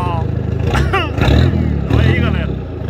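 A 1949 Chevrolet 3100 pickup with a twin-outlet exhaust revs in loud surges close to the tailpipe, a deep rumble rising and falling while people talk over it.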